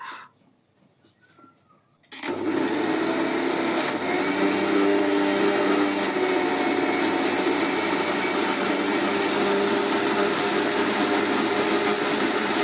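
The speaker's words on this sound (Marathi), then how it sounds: "नाहीतर परत थोडंसं पाणी टाकायचं आणि परत मिक्सरला ग्राइंडिंग करून घ्यायचं" A mixer grinder whirs steadily, loud and continuous, as it churns cream with water into butter for homemade ghee; it starts abruptly after a short quiet stretch.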